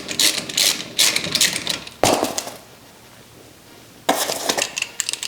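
A ratchet working 14 mm brake caliper bolts loose on a car, rapid clicking bursts with a sharp metallic clank, a quiet pause, then more ratcheting close by.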